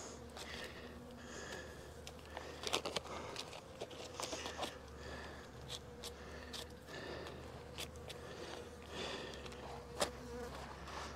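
A steady, dense hum of many honey bees buzzing close by during a winter feeding of pollen patties and sugar cakes, with occasional faint scrapes and taps over the continuous drone.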